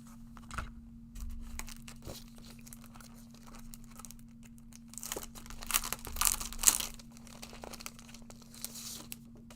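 Foil sheet being handled for foiling toner sheets in card making, with soft intermittent crinkling and rustling, close and faint, building into brighter crackles near the end.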